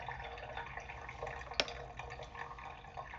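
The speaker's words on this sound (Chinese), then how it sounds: "装剩饭的洗一洗" A leftover-food container is washed under a running tap, a quiet steady splash of water with soft handling noises and one brief knock partway through.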